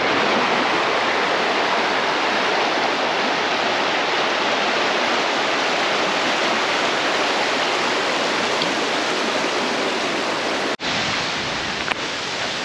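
A forest waterfall pours down in a loud, steady, unbroken rush of white water close by, continuous for the whole stretch with no voices.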